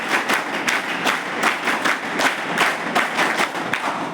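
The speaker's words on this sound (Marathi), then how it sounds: "शिक्षक आणि शिक्षकांसाठी टाळ्या वाजवा" An audience at a hostel gathering claps for the teachers, a continuous burst of crowded hand claps with sharper individual slaps popping through, fairly loud and near, sustained without voices.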